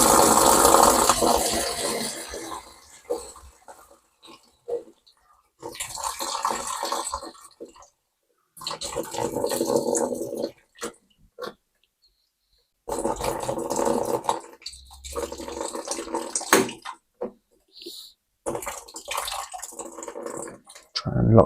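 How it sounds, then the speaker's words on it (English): Water spills from a pressure relief valve into a bucket in bursts of splashing and dribbling, stopping and starting with a few short pauses between close, moderately loud pours. "Pour the PRV into the bucket."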